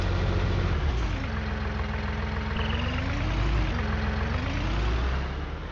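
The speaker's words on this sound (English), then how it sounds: "Oh, do you like my tractor?" A tractor engine idles steadily and close by, a low continuous rumble with a slowly wavering tone that holds for the whole stretch before easing slightly at the end.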